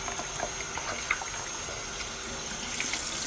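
Tap water pours continuously over a whole raw chicken being rinsed before barbecuing beer can style, a steady splashing gush with small irregular spatters.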